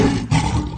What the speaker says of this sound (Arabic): ولك هذا صوت اسد